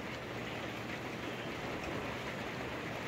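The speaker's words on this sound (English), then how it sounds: "It just poof started raining just now." Sudden rain falling outdoors, a steady dense hiss of drops spread evenly across the whole stretch, constant in level with no voices.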